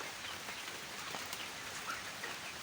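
Light rain falls outdoors as an even, continuous hiss of fine drops, soft and steady with no voices.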